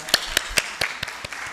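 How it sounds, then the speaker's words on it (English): Sparse applause for Dr. Shashi Tharoor at a book launch in Kolkata, a handful of distinct claps at a brisk, slightly uneven pace, fading toward the end. "let's give him another round of applause"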